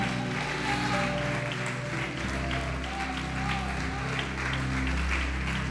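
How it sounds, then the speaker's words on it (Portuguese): A church congregation applauds during a worship service, a continuous wash of clapping under sustained organ-like musical tones and faint voices. "Pode aplaudir, glorificá-lo."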